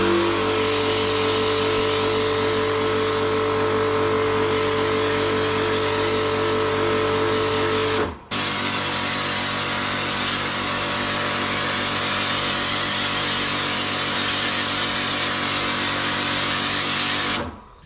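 Electric pressure washer running loud and steady with a constant motor whine and spray hiss, cutting out briefly at one point before restarting and running on until a final stop.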